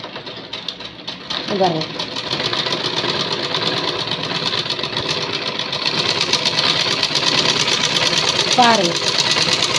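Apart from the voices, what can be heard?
sewing machine stitching folded fabric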